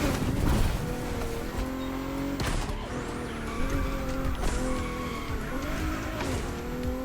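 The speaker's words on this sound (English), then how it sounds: "it just wants to drift" A car drifting in The Crew Motorfest racing game, tires squealing in long sliding whines over a loud revving engine, with sharp gear-shift dips and bursts of acceleration.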